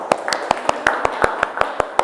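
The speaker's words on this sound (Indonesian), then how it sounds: "Oke, tepuk tangan buat kita semua." A small group in a classroom lesson claps in a quick, fairly regular rhythm of sharp, close claps, with faint voices murmuring underneath.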